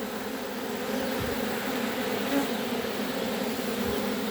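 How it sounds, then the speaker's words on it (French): Dense swarm of honeybees humming steadily around a crowded hive frame, a continuous close buzz with no voices. "S'il y a trop d'abeilles sur le cadre,"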